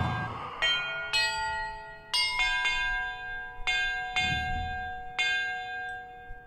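Bell tones from a glockenspiel puzzle in the video game Hogwarts Legacy, struck one at a time in an uneven sequence of about ten clear, ringing chimes, each sustaining and decaying into the next, with no talking.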